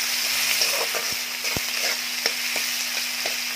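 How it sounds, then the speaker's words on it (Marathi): Finely chopped onion frying in hot oil for a bean vegetable dish, with a constant close sizzle, a low steady hum beneath and occasional sharp spatula taps against the pan. "तर तेल चांगलं गरम झालेलं आहे. आता यामध्ये बारीक चिरलेला कांदा घालायचा आहे."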